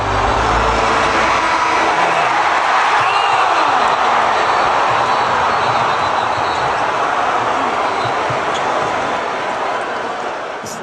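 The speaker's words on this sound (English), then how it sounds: "Just listen to the crowd." A packed Madison Square Garden basketball crowd roars in a dense, sustained wall of noise after a Haliburton shot, staying loud throughout and easing slightly at the end.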